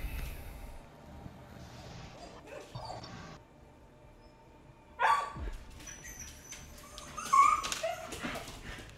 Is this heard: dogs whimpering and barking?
yes